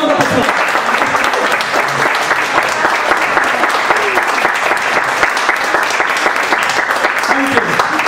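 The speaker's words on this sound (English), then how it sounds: "I think you deserve a big round of applause." An audience at an event in Manchester claps in sustained, dense applause, loud and even throughout with no pauses.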